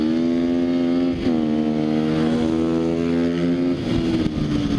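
A Sherco 300 SEF-R enduro motorcycle drones loudly and steadily while being ridden, its engine note dipping and rising briefly with throttle changes, close and continuous with no talking.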